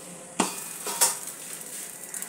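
Porotha frying in a pan gives a soft, steady sizzle, broken by two sharp clinks of a utensil against the pan, with no voices over it.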